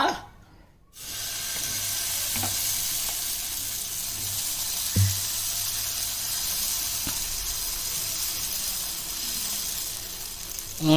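Uthappam batter spreads onto a hot pan and sizzles in a loud, steady hiss that begins after a brief quiet moment and holds evenly, with faint clinks of a utensil and no talking.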